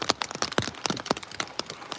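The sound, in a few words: heavy rain falling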